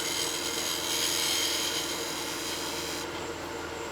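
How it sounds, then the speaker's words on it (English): Wood lathe spinning a bowl blank while a scraper chamfers the edge, a steady broadband whirring hum with a constant tone, close and continuous, ending in a brief sharp tick. "Maybe just chamfer this region with a scrape."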